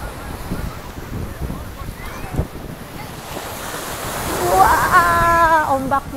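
Surf rolls in at Maroubra Beach, a continuous rushing wash of ocean waves with wind noise on the microphone, while a person speaks over it and a brief tonal whistle-like sound rises near the end.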